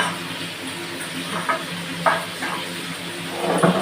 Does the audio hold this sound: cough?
no